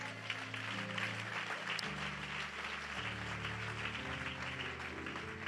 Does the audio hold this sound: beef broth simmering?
no